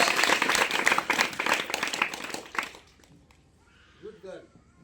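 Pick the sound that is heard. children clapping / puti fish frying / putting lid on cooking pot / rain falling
children clapping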